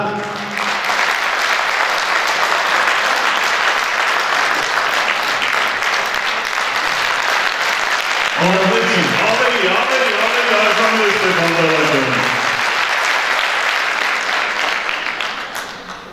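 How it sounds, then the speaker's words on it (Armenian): Sustained applause from an audience fills the whole stretch, steady and fairly loud, with a brief tonal musical phrase rising midway. "Խնդրում մի հատ ծափահարենք"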